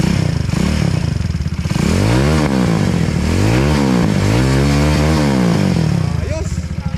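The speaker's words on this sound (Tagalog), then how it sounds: "Sound check yung motor ni sir." A motorcycle at a bazaar sound check revs hard in repeated swelling bursts, the exhaust climbing and dropping in pitch several times, loud and close with crowd noise behind.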